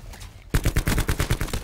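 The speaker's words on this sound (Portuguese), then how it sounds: "Olha, tiros." Loud rapid automatic gunfire in Call of Duty: Black Ops 4, a steady burst of about a dozen close shots in quick rhythm after a brief quieter moment.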